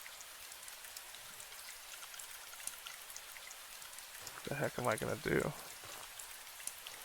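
Soft, steady patter of rain falling in the post-apocalyptic video game Last Breath, a faint continuous hiss with someone briefly talking over it near the end.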